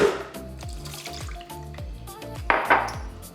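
Water pours into a blender jar while salad dressing is being made, a close trickling and splashing stream with small clinks, rising into a fuller gush near the end.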